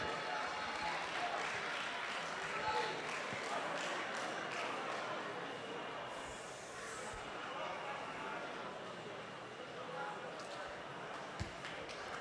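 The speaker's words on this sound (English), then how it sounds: "A round of applause as he joins us to present" An audience applauds steadily at the award presentation of the 2023 National Science and Maths Quiz grand finale, a dense, sustained wash of clapping that runs throughout at an even level.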